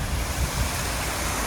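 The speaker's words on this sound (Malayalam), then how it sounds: "വെള്ളച്ചാട്ടം" A waterfall deep in a forest gives a steady, broad rush of falling water, loud and constant throughout with a heavy low roar and no voices.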